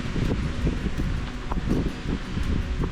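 Wind blows hard and continuously across an exposed mountain ridge at about 660 metres in Tararua Forest Park, a dense, gusting roar buffeting the microphone with no voices.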